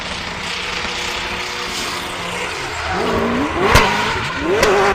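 BMW drift cars at a Finnish championship event in Kalajoki roar and whine with rising and falling pitch, tires screeching as cars slide past, loud and close.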